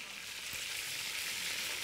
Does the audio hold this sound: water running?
no